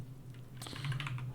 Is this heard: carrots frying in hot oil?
no